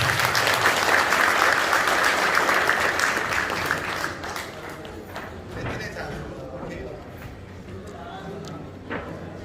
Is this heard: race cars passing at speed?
no